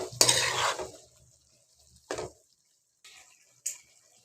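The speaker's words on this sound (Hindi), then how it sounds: "हम इसके अंदर थोड़ा सा ये टमाटो का पेस्ट डालेंगे। इसको मिक्स कर लेंगे।" Tomato paste being stirred into a spaghetti and macaroni mix in a pan: a loud scraping stir at the start, then a few short, quieter utensil scrapes and clinks spaced apart.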